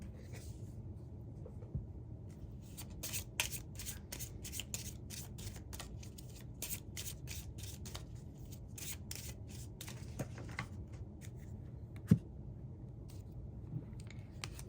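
A tarot deck is handled and shuffled in a quiet room, a run of crisp, rapid card flicks and riffles over a low steady hum, faint and close.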